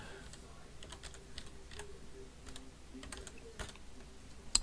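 Someone types on a computer keyboard, soft, rapid clicking keystrokes in irregular bursts. The sound is quiet and close, with no other sounds around it.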